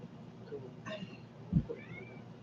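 A cat meows once, fairly close and moderately loud, against a low background murmur in an indoor setting.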